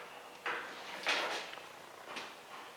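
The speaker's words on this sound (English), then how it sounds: "Open the door." A few soft sliding thumps and rattles, quiet and close, like a door being pulled open, with no voices.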